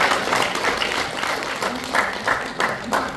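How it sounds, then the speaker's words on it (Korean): A seated audience at the opening ceremony of a world Korean women's conference claps in a short round of applause, a dense steady patter with some voices mixed in. "큰 박수 좀 보내주세요"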